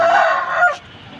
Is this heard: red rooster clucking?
yes